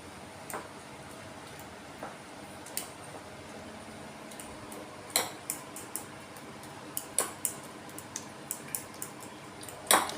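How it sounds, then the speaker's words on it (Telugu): Eggs with chicken masala being mixed in a bowl for a masala omelette, a utensil tapping and clinking against the bowl in irregular soft knocks that grow busier toward the end, close and quiet with no talking. "ఇప్పుడు కలుపుకుంటున్నాము అవన్నీ వైట్ అండ్ ఎల్లో ఎగ్ కలిసేటట్టుగా బాగా కలుపుకోవాలి"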